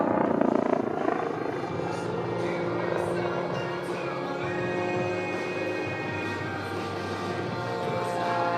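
A Red Bull aerobatic helicopter performs at the Aviation Nation air show at Nellis Air Force Base, its rotor drone strong and continuous with a low rhythmic thumping and shifting pitch as it maneuvers overhead.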